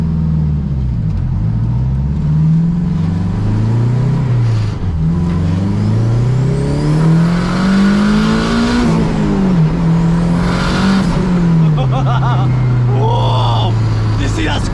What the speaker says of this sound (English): I really wanted to hear the VTEC and the turbo crossover, and that turbo wind does it for me